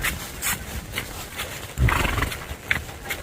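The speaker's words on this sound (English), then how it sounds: "Maverick, 8-year-old, 16-hand stud horse." An eight-year-old, 16-hand Tennessee Walking Horse stud, a red roan, snorting and blowing outdoors with loud breathy bursts and shuffling hoof sounds nearby, one heavier thud midway.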